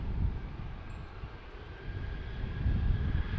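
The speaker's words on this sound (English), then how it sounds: "we have a CRJ taking the runway, American Eagle" An American Eagle CRJ regional jet taxis onto the runway, heard as a steady engine roar and rumble at moderate distance, swelling slightly toward the end under wind noise.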